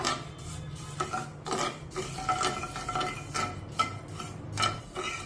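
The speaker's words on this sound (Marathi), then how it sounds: "आता ही साखर आपण पाण्यामध्ये विरघळून घेऊया" A spoon scrapes and clinks against a metal pan in repeated, uneven strokes, stirring sugar into water close by over a soft background hiss.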